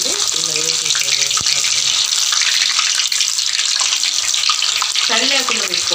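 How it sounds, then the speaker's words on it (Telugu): Stuffed bitter gourd sputters and crackles in hot oil as a constant bright hiss, close up, while a voice speaks briefly over it. "ఇలా కొంచెం తడి ఉందని చిట అంటున్నాయి"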